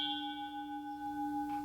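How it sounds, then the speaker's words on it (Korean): A bell rings with a clear sustained tone and long ringing overtones that slowly fade, heard softly and alone in a quiet room. "이 종소리가 울려 퍼지고 있는 자리가 있어."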